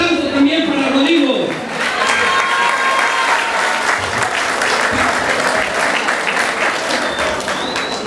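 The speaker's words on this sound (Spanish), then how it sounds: "Fuerte aplauso también para Rodrigo." Loud, dense crowd applause fills a prize-giving ceremony for an award recipient, holding steady from start to finish with a voice faintly over it.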